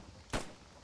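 A single tank gun shot in the Post Scriptum video game, one short, fairly distant boom standing out over a low steady background hum.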